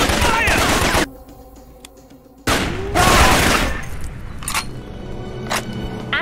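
Gunfire in the PC shooter Raven Squad: rapid bursts of automatic fire in a loud fusillade, broken by a brief lull, then more shots and sharp cracks, with voice callouts in between.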